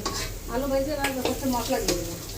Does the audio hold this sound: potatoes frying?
yes